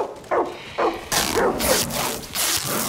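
A dog in Far Cry 6 gives several sharp barks and yips, close and loud, in quick bursts over a few seconds.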